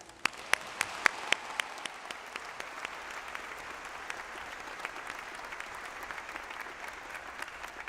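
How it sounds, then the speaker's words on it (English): A graduation crowd at Jacksonville State University applauds its faculty with sustained, dense clapping from a large audience, a few sharper nearby claps standing out early before it settles into a steady wash. "Please join me in applauding the faculty"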